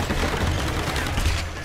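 Rapid gunfire in the Tomb Raider video game, a dense, continuous burst of shots in a noisy, loud mix that fills the whole short stretch.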